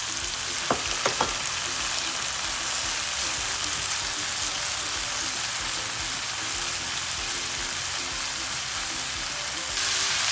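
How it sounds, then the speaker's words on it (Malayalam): Sliced onions fry with crushed ginger-garlic and salt in a pan for a Kerala prawn roast, a dense continuous sizzle like steady rain, with a couple of sharp utensil taps early on and no voices. "സവോള നന്നായിട്ട് വഴന്ന് വരണം."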